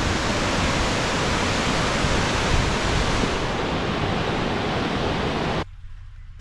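Kepler Cascades waterfall in Yellowstone roars as a loud, steady broadband rush of falling water, close and continuous, easing to a quieter, thinner hiss in the final second.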